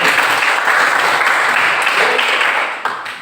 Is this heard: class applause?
yes